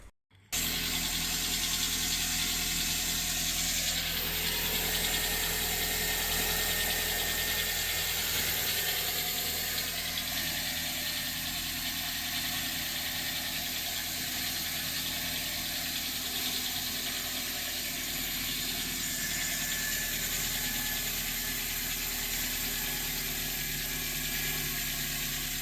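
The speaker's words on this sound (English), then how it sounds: "when I turn on and off the car, it starts, well, I'll let you listen to it, and if someone knows, can you tell me?" A car engine starts and then runs steadily for about twenty-five seconds, a loud continuous whirring drone with a faint ratcheting mechanical noise mixed in, recorded close with no talking.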